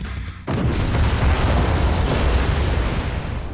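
A facility explosion in Daemon X Machina hits suddenly after a quiet moment, erupting into a loud, sustained roaring blast that rumbles on heavily without fading.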